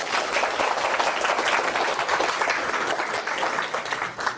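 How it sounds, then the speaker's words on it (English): Warm, sustained applause from a large audience welcoming a speaker before a Buddhism lecture, dense clapping filling the room throughout. "Let us welcome Khenpo's arrival with warm applause."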